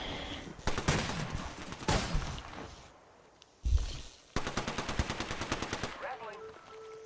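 Rapid automatic gunfire bursts crackle in an Apex Legends match on Xbox One, with loud repeated shots, a brief pause and a deep impact thud, then more sustained firing, with a voice faintly under it.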